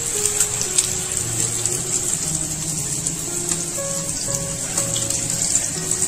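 Chicken chapli kababs fry in hot oil in a pan, giving a steady, close, bright sizzle that holds evenly throughout with no talking.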